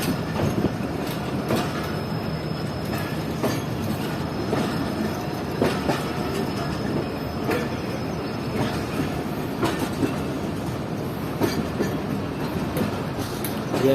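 The SGMU 38-07 locomotive hauls the Zakaria Express past in a steady, loud rumble of rolling wagons, with rhythmic clickety-clack of wheels over rail joints and occasional squealing throughout.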